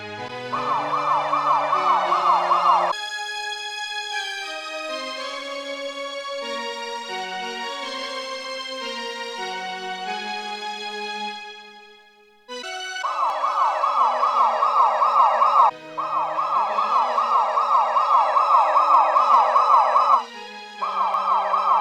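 An ambulance siren wails loud and close in a steady repeating pattern, breaking off briefly around the middle before starting up again, with no voices over it.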